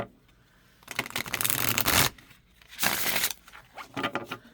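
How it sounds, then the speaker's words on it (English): Thin, slightly bendy cardstock tarot cards from a Heaven & Earth Tarot deck are riffle shuffled in three bursts of rapid fluttering clatter, the first and longest about a second, separated by short pauses, close and clear. "You can still riffle shuffle."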